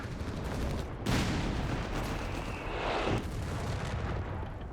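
Battle in Company of Heroes 3 with 75mm high-explosive shell fire, a dense, loud rumble of blasts and artillery that rolls on continuously, with a sharper burst about a second in.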